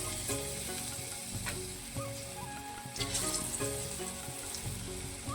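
Pakoras fry in hot oil, a continuous dense sizzle and crackle, close and fairly quiet, with no one talking.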